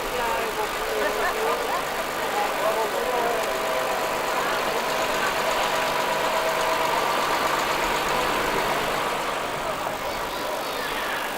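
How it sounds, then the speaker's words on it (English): A Volvo F12 truck engine runs steadily at a road run, a continuous, even drone with the murmur of voices nearby throughout. "Next is this Volvo F12, another late entry not showing in your programme"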